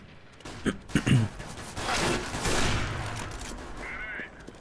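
Gunfire in the video game Overwatch: a quick cluster of sharp shots early on, then a sustained washy blast and rumble of game action that trails off into a fainter mechanical tone.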